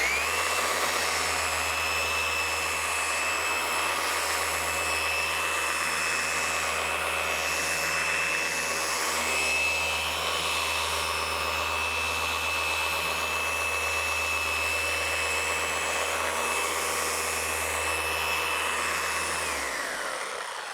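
Paint correction polishing machine running on car paint, a steady loud electric whine with a constant high tone held for about twenty seconds before spinning down at the end.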